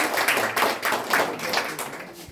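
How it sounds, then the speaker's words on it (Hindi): Steady, loud clapping from the audience at a toppers' award ceremony, a continuous crowd applause lasting the whole short moment. "इनके लिए एक जोरदार ताली।"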